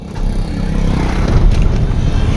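An Isuzu 6WF1 diesel truck engine, a low-powered unit with heavy black smoke and misfiring, cranks and catches, then settles into a steady, loud, close rumble throughout.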